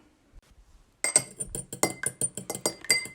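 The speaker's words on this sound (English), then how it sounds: "You actually need to like stir it and make it frothy and stuff." Egg white is whisked briskly in a glass bowl, producing a steady run of sharp, rapid clinks of utensil on glass, close and fairly loud, starting abruptly after a quiet moment.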